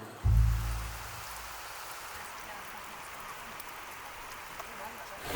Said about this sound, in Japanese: ビレに着いてから急に雨降り出しまして